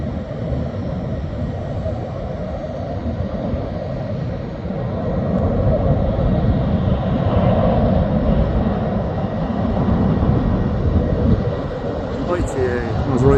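An ITA Airways airliner at a busy airport, heard as a loud sustained engine roar that swells slightly midway, with broadband rumble and no break.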